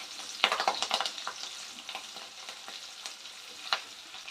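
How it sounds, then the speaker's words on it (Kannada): Six or seven green chillies fry in oil, giving a steady close crackle with sharper pops and occasional stirring scrapes, no voices. "ಒಂದು 6-7 ಮೆಣಸಿನ್ಕಾಯಿ ಹಾಕ್ಕೊಂಡಿದ್ದೀನಿ. ಸ್ವಲ್ಪ ಎಣ್ಣೆ ಚೆನ್ನಾಗಿ ಬಾಡಿ ಅಲ್ಲಿ ಖಾರ ಬಿಡಬೇಕು"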